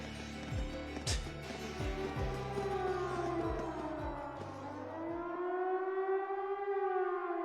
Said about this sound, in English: It sounds like a siren. It seems to be coming from the fort.